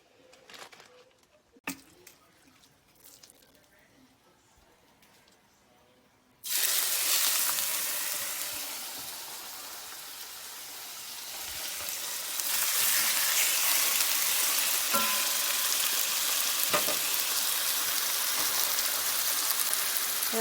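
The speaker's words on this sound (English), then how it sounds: "now we're gonna move them over into the pan and start frying them." Steaks dropped into a hot pan of garlic-infused olive oil burst into a loud, steady sizzle and crackle that swells further partway through, after a quiet stretch of handling at the start.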